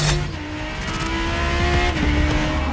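A Lamborghini Huracan Tecnica engine roars and revs hard toward 8,500 rpm, its pitch climbing and holding, loud and close, with road rumble beneath.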